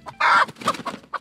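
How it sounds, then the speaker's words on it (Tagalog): Free-range chickens cluck close by in a short burst of busy, overlapping clucks and squawks, with one louder call leading, and no talking. "para sa checklist ng ating Tres Marias at tandang"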